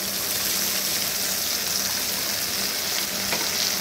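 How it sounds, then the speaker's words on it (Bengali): Spice paste frying in hot oil with whole garam masala for a potato dum curry, giving a loud, steady, dense sizzle that continues without pause and with no talking. "ফোড়নটা একটু আসার পরেই এর মধ্যে দিয়ে দিচ্ছি যে পেস্টটাকে আমি রেডি করে রেখেছি"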